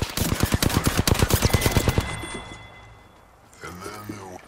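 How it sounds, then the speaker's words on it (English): Rapid automatic gunfire from enemies in the video game Apex Legends, a loud rhythmic burst of shots for about two seconds that then fades, followed by faint game sounds. "Enemies are shooting at me"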